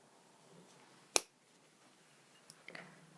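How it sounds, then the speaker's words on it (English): One sharp snip of gold wire cut with jewelry cutters while making a pearl hoop earring, a single crisp click in a quiet room followed by faint small handling taps. "I'm going to cut my wire down"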